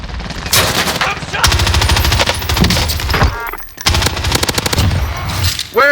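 Rapid automatic gunfire in the shooter game Warzone, including an AMAX assault rifle, sounding as loud, dense bursts of shots with brief pauses, layered with game effects and occasional chatter.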